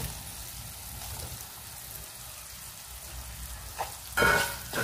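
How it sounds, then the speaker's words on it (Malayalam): Quail eggs, fried beforehand, go into a pan of masala for a quail egg pickle, and a soft, steady sizzle fills the pan. A brief louder stir and clatter comes near the end. "ഇനി നമുക്ക് നമ്മൾ നേരത്തെ ഫ്രൈ ചെയ്ത് വെച്ചിരിക്കുന്ന കാടമുട്ട ചേർത്ത് കൊടുക്കാം"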